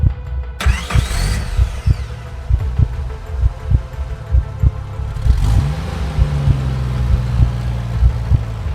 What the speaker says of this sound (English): the sound of a car door slammed in the distance. Then an engine started.